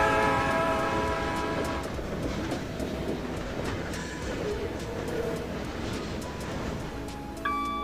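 A train in the Rails Unlimited video game rolls past, opening with a sustained horn blast, then a steady rumble and clatter of cars, with a short horn sounding again near the end.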